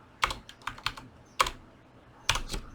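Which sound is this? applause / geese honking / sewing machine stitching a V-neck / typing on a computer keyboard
typing on a computer keyboard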